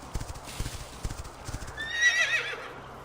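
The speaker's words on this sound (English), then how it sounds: "Let's get on the horse." A horse in the video game Quinfall trots with steady clip-clopping hooves, then lets out a loud whinny near the end, close and clear with no talk.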